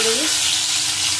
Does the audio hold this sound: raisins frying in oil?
yes